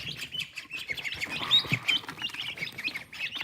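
Turkeys call outdoors, a rapid run of sharp chirps and squawky notes repeating unevenly at moderate volume, with no talk over them.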